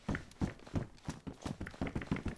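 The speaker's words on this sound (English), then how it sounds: "I heard some footsteps up here" Footsteps from the survival game DayZ, a steady run of soft, evenly spaced thuds on a hard surface, fairly close and moderately quiet, with no talk over them.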